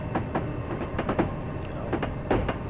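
A Metro North commuter train on the Hudson and Harlem lines in Train Sim Classic runs steadily, with a continuous rumbling roll broken by regular rhythmic clacks from the rails, heard alone without talk.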